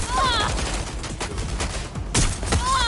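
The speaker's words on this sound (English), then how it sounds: "We've got gunfire!" Rapid bursts of gunfire crackle through a busy Watch Dogs: Legion game soundscape, with shouting voices and overlapping shots throughout.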